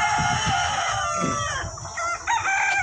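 Chickens crowd a poultry farm, with six-month-old birds in the flock; a rooster crows loudly and repeatedly over steady clucking and general flock noise, with no talking.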